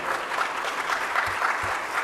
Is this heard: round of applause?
yes